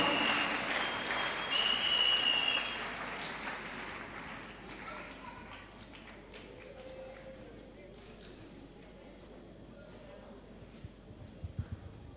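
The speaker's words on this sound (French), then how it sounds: "Clap for Jesus" A church crusade congregation in Douala claps for Jesus, with loud applause in the first few seconds that fades into a murmuring crowd. Voices carry on underneath throughout.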